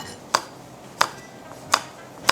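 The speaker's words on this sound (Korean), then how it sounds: "홍고추는 이렇게 썰어 준비해 주시고요" Knife cutting red chili pepper into small cubes on a board, four sharp, evenly spaced chops roughly a beat apart, close and clear over a quiet background.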